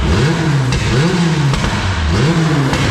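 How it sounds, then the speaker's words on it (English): An Acura Integra engine with an aftermarket cam and a non-stock ECU, running rough, revs up and down repeatedly in loud, close, rising and falling surges. "But if you give it gas, keep revving."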